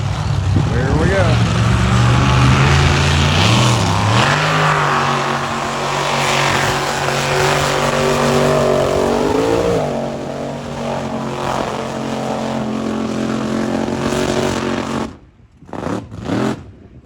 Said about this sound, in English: That is the blower motor truck.